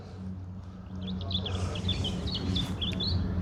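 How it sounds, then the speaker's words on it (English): Several birds chirp and trill in quick bursts over a low steady rumble of wind in the Scottish village of Balmaha, fairly close and clear, with no talking. "You've got the birds."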